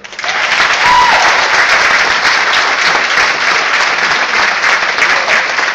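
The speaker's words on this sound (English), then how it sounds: "a big round of applause in honor of our historic 1927 Arabian Theater." Loud, sustained applause from a large audience in the historic 1927 Arabian Theater, clapping steadily and evenly from start to finish without fading.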